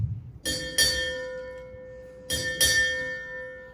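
Four bright metallic ship's bell strikes in two quick pairs at a Navy retirement ceremony, each ringing out with a sustained tone, near and clear with no voices.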